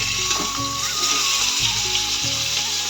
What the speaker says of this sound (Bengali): আর এখন মাছ ভাজা।